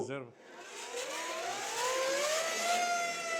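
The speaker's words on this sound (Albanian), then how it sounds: "është sirena që duhet lajmëronte" A brief voice, then a mechanical siren winds up, its whining pitch climbing steadily and holding loud and continuous.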